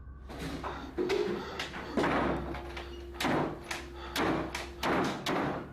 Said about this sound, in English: a door that opens and shuts on its own repeatedly